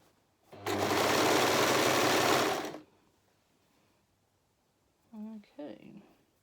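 A sewing machine runs in one loud, close, steady burst of about two seconds while stitching a romper, followed by quiet and a brief voice.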